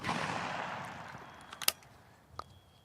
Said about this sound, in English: I am shooting Federal 12 gauge, obviously.